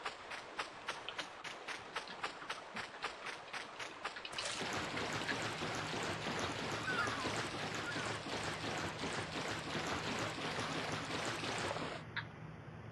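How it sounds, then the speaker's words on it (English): Eerie splashing, rushing water ambience in the video game Bully rises abruptly and holds as a steady wash for about eight seconds, preceded by a run of soft, regular tapping steps, then cuts off. "There's a weird splashing sound, but I think that's just the ambience."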